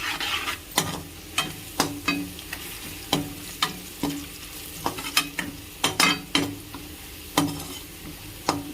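A spatula scrapes and taps repeatedly against a pan as fried onions with turmeric are stirred, sharp rhythmic knocks over a low sizzle, no voices, before beaten eggs go in for egg fried rice.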